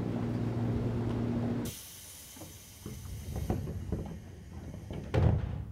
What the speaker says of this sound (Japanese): 6番線ドアが閉まります。